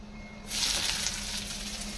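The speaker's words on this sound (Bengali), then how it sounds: "এই কারি পাতা দিয়ে রেখেছি, তো তাই জন্য ছিটকা উঠছে" Curry leaves spluttering and crackling in hot oil in a pan for semolina upma, a sudden close burst of hissing sizzle that starts abruptly and carries on steadily.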